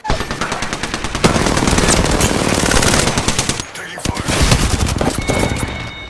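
Rapid automatic gunfire in the Apex Legends battle royale game, loud sustained bursts of rattling shots with short pauses between them, with players talking over the fire.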